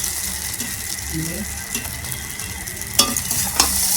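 Simple chow mein with egg, onion and green chilli stir-frying in a pan, a steady loud sizzle with scraping and stirring clatter and a couple of sharper utensil knocks near the end, no voices.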